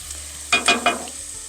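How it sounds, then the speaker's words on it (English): Roasted vegetables stirred with butter in a pan, about three quick scraping strokes with a faint sizzle beneath, close by and otherwise quiet. "Now what I'm going to do is stir them with butter and leave them undisturbed."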